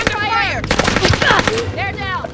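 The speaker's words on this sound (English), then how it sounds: "I'm under fire!" Rapid bursts of automatic gunfire in the video game Call of Duty: Modern Warfare, loud and close, mixed with sharp shots and game effects across the whole moment.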